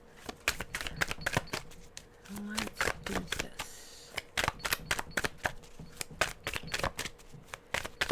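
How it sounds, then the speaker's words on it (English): A deck of Cosmic Tarot cards being shuffled by hand, a run of crisp, rapid riffling bursts close up, with a brief spoken line partway through. "I'm going to pick up this deck, Cosmic Tarot, and shuffle the cards."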